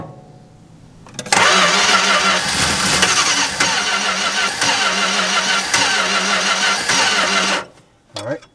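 A classic car engine cranks after a squirt of fuel, then catches and runs loud and rough for several seconds, with a pulsing beat and uneven surges, before dying off abruptly.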